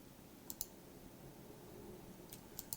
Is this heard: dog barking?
no